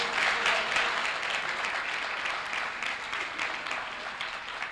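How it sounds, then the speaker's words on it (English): Audience applause at a swearing-in ceremony for a New York State Assemblyman, steady broadband clapping from a crowd at moderate volume, sustained throughout without pause. "let's give a big round of applause to Bishop Harding"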